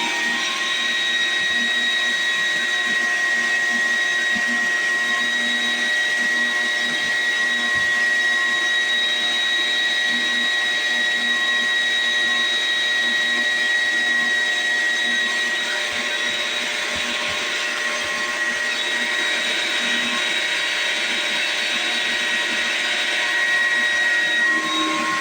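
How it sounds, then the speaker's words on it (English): A vacuum cleaner sucking up excess material runs continuously and loudly at a steady whine, close and alone with no talk over it. "now I'm going to take the vacuum, and I'm just going to go ahead and get the excess out"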